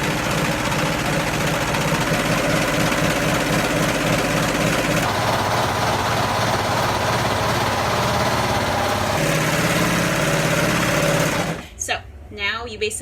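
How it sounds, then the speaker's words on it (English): A serger sewing machine stitches fabric lengthwise into a long tube for a cheer scrunchie, running with a steady, loud, rapid mechanical whir that shifts pace partway through and stops abruptly near the end. "start serging again"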